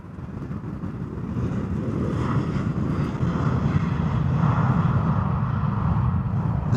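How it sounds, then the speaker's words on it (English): A KLM or Transavia Boeing 737-700 departs Schiphol runway 36L in showery weather, its jet engine roar building steadily into a broad, loud rumble that holds strong throughout. "So there's a baby 737."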